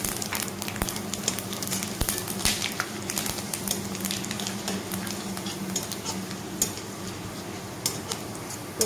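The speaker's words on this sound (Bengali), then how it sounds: "তো 5 ফোড়নটা ভাজা হয়ে গেছে" Panch phoron spices with dried red chillies and bay leaves fry in hot oil, giving a close, steady sizzle with scattered crackles and the occasional scrape of stirring.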